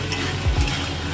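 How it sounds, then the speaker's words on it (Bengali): Mushrooms stir-fry in a pan for masala, a steady close sizzle with a couple of brief scraping stirs of a spatula partway through. "মাশরুমগুলো কষিয়ে নিতে হবে।"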